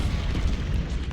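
Deep cannon artillery booming in the Ultimate General Civil War video game, a sustained low rumble of fire continuing for about a second with no talk over it.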